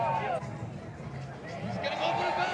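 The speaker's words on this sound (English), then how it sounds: "you can hear the crowd too" A small, limited crowd at a Crankworx Innsbruck speed and style mountain bike event cheers and murmurs close by, with steady babble mixed under a commentator's talk.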